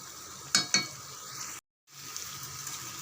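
Vada frying in hot oil for a Varalakshmi festival dish, a steady soft sizzle with two sharp crackles near the start, then a brief dropout before the frying hiss resumes.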